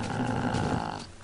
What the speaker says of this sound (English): And the wolves growl